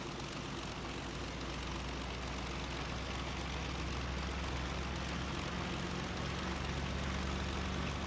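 Propeller aircraft engine in the IL-2 flight game, droning steadily and loudly through a takeoff run, a continuous broadband roar with a low hum and no voices.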